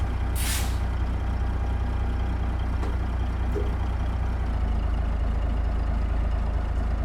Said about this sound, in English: The brake must still be on.